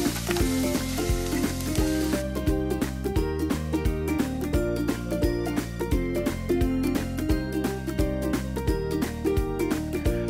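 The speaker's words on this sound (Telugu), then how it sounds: "2 స్పూన్ జీలకర్ర వేసి 3 ఎండుమిర్చి సగానికి విరిచి, అలాగే 3 పచ్చిమిర్చి, కరివేపాకు కూడా వేసి మంచిగా ఫ్రై చేయండి." Cumin seeds, dried red chillies, green chillies and curry leaves fry in hot oil with a continuous crackling sizzle, heard under steady background music.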